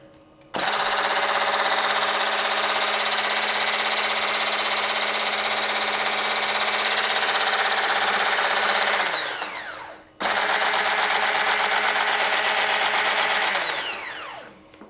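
A Cecotec Power Titan Black 1200 XL hand blender runs in two bursts: a steady, loud, high motor whine lasting about nine seconds, a brief stop, then a shorter second run that winds down.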